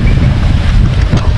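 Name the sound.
strong wind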